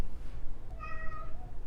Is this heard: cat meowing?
yes